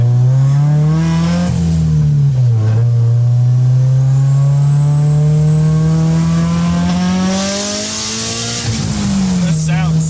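A turbocharged Subaru BRZ engine revs loudly up close, its pitch climbing and dipping, with a sharp hissing whoosh of the wastegate near the end.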